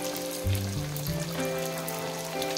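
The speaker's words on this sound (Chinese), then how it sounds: "将做好的麻花头生坯一次放进油锅里" Twisted mahua dough pieces dropped into hot oil, frying with a steady, continuous sizzle and crackle over a low background hum, with no talk.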